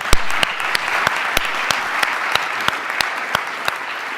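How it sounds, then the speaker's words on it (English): Students receive a round of applause from a summit audience, dense clapping sustained throughout with a few sharper individual claps standing out near the front. "So please just give a quick round of applause to these students."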